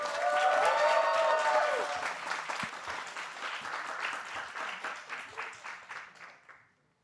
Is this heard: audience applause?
yes